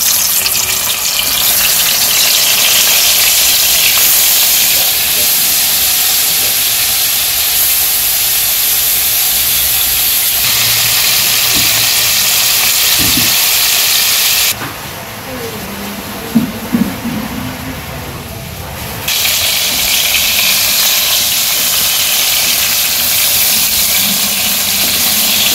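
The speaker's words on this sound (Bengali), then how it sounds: "তো মাছগুলো মাখানো হয়ে গেছে আমি তেলে দিয়ে দিই" Spiced fish, coated in turmeric, salt and chilli, frying in hot oil in a wok in a village kitchen, making a loud, rushing, steam-like sizzle that dips quieter for a few seconds midway before returning at full strength.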